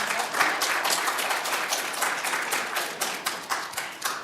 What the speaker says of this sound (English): let's give him a nice round hand of applause